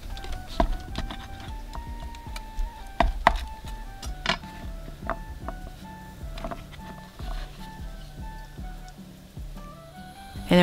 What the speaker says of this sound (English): cut it into strips.